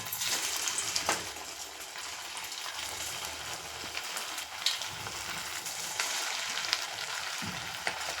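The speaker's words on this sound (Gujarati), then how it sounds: "ધીમા ગેસે આપણે પહેલાં વડા બધાય તળવાના છે" Poha vada frying in hot oil over a low flame: a continuous soft, even sizzle and crackle with small pops, steady and fairly faint throughout with no voices.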